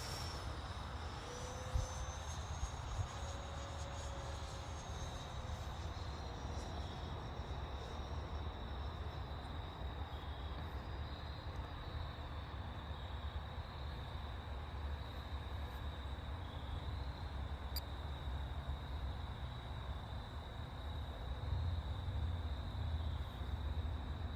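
A Freewing 70mm electric ducted-fan F-16 RC jet flies over a runway, floating long on landing with its flaps not working. A steady high whine and broad rushing noise run continuously at a moderate distance, swelling slightly toward the end.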